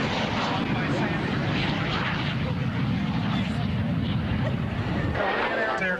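A Navy T-33 jet in Blue Angels paint flies at an air show, its engine a steady, loud, broad roar throughout with no pauses.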